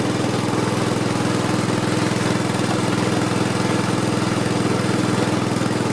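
A Gravely 8163-B walk-behind tractor fitted with a 38-inch snow blower runs steadily outdoors in cold weather after a carburetor readjustment. Its loud engine drone holds constant and close throughout, with no voices.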